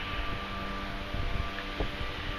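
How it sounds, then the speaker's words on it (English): Steady, fairly faint wind buffeting at a lake overlook near Peoria Lake, Illinois, a continuous low rumbling roar with slight gusty fluctuations and no voices. "The wind is fucking horrible."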